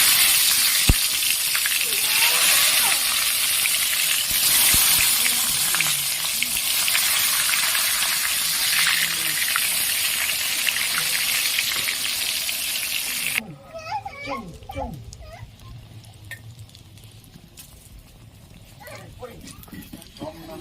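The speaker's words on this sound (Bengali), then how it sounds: "এবার আমি বাকি বেগুনগুলো এইভাবে ভেজে নেব।" Eggplant slices fry in hot oil for begun sundari, a loud, dense sizzle that fills most of the stretch, then drops off abruptly into quieter clatter and a speaking voice.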